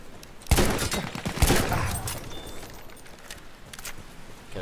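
Shotgun blasts in the Battlefield 1 video game, two loud close shots about a second apart, each with a booming tail, followed by quieter ambient battle noise and no talking.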